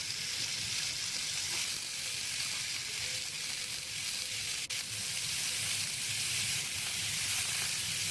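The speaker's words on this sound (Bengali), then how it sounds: "এরপর আলুগুলোকে একটু ভেজে নেব ভালো করে।" Potatoes fry in hot oil in a pan for a Bengali egg and potato curry, producing a continuous even hiss and sizzle that stays steady and close, with one brief click midway and no voices.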